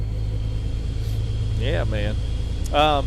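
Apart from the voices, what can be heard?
truck engine rumbling in American Truck Simulator video game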